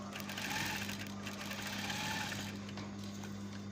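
A sewing machine stitches through fabric and lining, a steady, close mechanical whir with a constant hum underneath that runs for a few seconds without pause.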